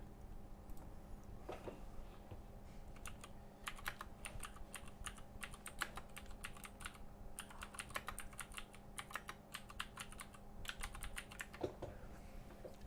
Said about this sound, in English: I'm getting heaps faster at typing in my new job